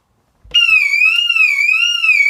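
After a brief silence, an HKC Quantum wireless window alarm starts abruptly as the window opens and keeps shrieking with a wavering, warbling pitch. It is loud, close and continuous.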